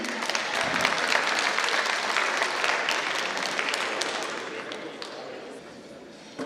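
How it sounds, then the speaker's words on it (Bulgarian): Crowd applause at a foreign students' festival, energetic clapping from a large audience that gradually thins and fades toward the end. "Аплодисменти на Ешко 97."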